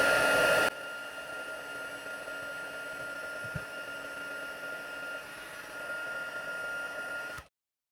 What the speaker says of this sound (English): Then I'm going to grab my heat tool and just heat that up.